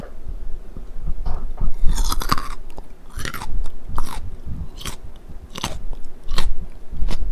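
Close-up bites and chewing of crunchy Korean fried chicken, irregular crisp crunches and soft mouth sounds at close range, with no speech.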